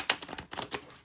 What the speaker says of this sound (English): I know I've probably shuffled it enough because I shuffle a different way too